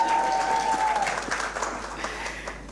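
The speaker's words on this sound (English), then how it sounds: "A round of applause for me." Audience applause at a summit session, a dense burst of clapping from a sizable crowd that starts strong and gradually fades over a few seconds.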